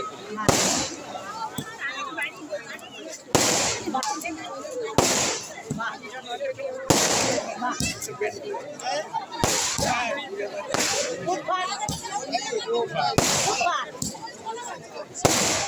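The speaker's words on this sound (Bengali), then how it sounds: "ফুটফাট বাজি" Firecrackers popping on a street, a series of sharp loud bangs at irregular intervals, each cracking burst standing out over a busy background of crowd noise and faint voices.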